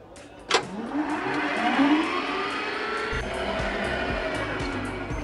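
A small cart in Toca Life World rolls between areas, its motor whirring and rising in pitch after a sharp click at the start, then settling into a steady low rumble; no one speaks.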